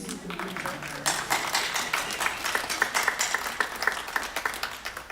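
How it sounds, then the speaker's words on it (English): Audience applauding graduates' parents and family at a 2024 high school graduation ceremony, a dense, sustained crowd clapping that holds steady and fairly loud throughout. "graduates, can you give your parents and family a round of applause for getting you to this point?"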